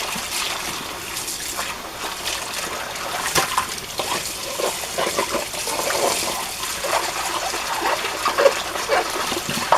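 A dish is rinsed under running water at a kitchen sink after washing with homemade liquid dish soap, a steady close splash and trickle with a few clinks of the dish running through the whole stretch.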